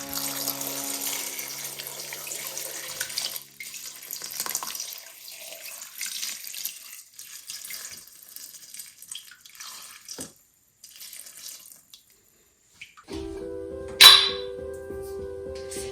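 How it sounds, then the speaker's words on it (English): Tap water runs into a cooking pot holding vegetables and leeks for a soup, a steady splashing stream that quiets before a clink and a brighter, fuller gush near the end. "Fill the pot with water until the veggies are submerged and the leeks floating."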